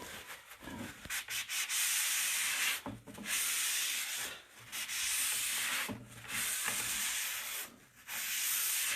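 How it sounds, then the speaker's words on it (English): Paper towels rubbed and wiped across a wooden drawer front during a white gel stain liming wash, a close, steady scrubbing hiss in long continuous strokes broken by brief pauses. "I'm going to wipe it back with my paper towels"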